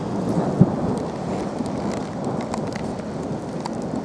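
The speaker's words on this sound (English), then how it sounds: "we've just got an electrical storm arrived right now" A thunderstorm in Southport, England: steady heavy rain hissing across surfaces with low rumbling thunder throughout and one sharp crack early on, loud and close, with no voices.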